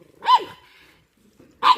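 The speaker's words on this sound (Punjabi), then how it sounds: "ਇਹ ਤਾਂ ਉੱਪਰੇ ਕੁੱਤੇ ਦੇਖ ਕੇ ਬਹੁਤ ਭੌਂਕਦੀ ਆ ਇਹੋ" A dog barks twice, two sharp, loud barks separated by a pause of over a second, with near silence between them.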